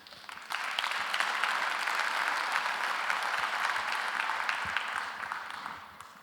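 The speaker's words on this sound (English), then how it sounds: "with a round of applause." Sustained applause from the audience at the CYBERSEC 2017 conference opening, a broad wash of clapping that swells in just after the start and holds steady, slightly distant and with no speech over it.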